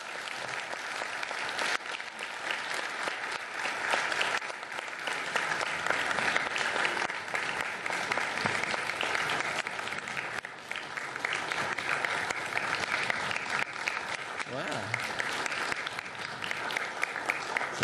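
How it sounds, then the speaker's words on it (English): A city commission chamber crowd gives a long standing ovation for a new police officer, steady dense clapping sustained for many seconds at moderate loudness with no speech over it. "let's have a round of applause for Chris"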